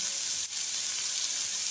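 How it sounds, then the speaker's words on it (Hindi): Spices for a pizza filling fry in a pan with a loud, continuous, close hiss and sizzle that holds steady throughout, with one brief dip near the start. "स्पाइसेस डाल के हमने अच्छी तरह से भून लिया है"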